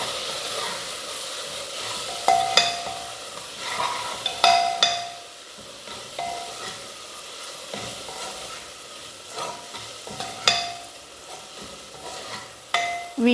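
Turmeric and chili powder are stirred in a hot cooking pan for vegetable rice, giving a soft steady sizzle broken by several sharp scrapes and taps of a spoon against the pan, with no talking.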